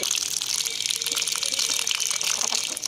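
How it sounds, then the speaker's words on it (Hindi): Steady rushing fresh water pours continuously into a budgie's water container, a loud splashing gush with no pauses, close by. "अब हम इनको फ्रेश वाटर डाल देते हैं"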